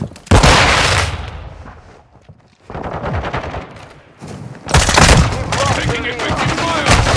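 Dense bursts of automatic gunfire and rapid shots crackle in a Call of Duty Modern Warfare 2 multiplayer match on PS5, loud and close, coming in waves with brief lulls between them.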